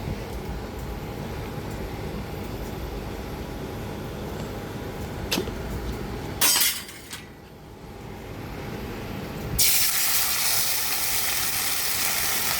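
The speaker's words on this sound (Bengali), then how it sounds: "গোটা জিরে তেজপাতা দেওয়ার পরে আমি টমেটো, আদা, কাঁচা লঙ্কার পেস্টটা এর মধ্যে দিয়ে দেব।" Tomato, ginger and green chili paste hits a hot pan after whole cumin and bay leaf, giving a loud burst of sizzling that briefly fades, then returns as a strong, steady fry that lasts to the end.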